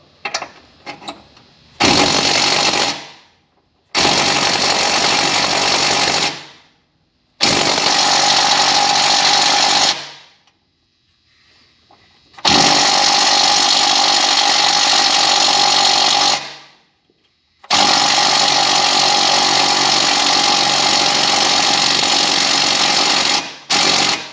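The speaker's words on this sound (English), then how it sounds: "she's not busting loose with the impact driver" An impact driver hammers at a motor mount bolt on a Mazda 3 from underneath, delivering several long, loud, rattling bursts of several seconds each, separated by short silences.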